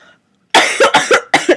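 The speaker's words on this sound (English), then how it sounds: "How appropriate was the cough?" A single loud, close cough breaks out after a brief quiet, made of several sharp, rapid bursts in quick succession.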